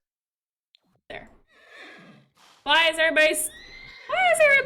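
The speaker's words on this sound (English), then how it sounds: "the horse is just magically stomping through everybody" A horse neighs in a video game, with a few high whinnies, loud and close, following a person who talks briefly.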